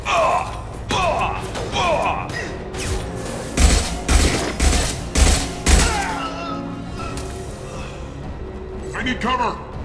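Bursts of gunfire during a firefight in the Mass Effect Legendary Edition video game, heavy thumping volleys clustered mid-clip under a combatant's shouts and gasps, with lighter shots before and after.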